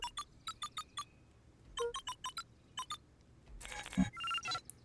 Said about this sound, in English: cracked his knuckles and entered the letters into the keypad